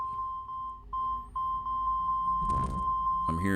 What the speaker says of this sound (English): I'm hearing some heavy beeping